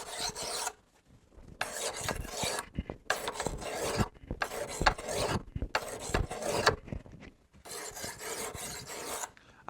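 A knife is sharpened with a series of repeated rasping strokes, each lasting about a second with brief pauses between them, heard close with no voices.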